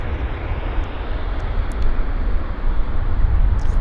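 A United Airlines plane inbound from Los Angeles LAX lands at Vancouver YVR airport. The jet gives a loud, continuous roar during its rollout, heard alone without voices.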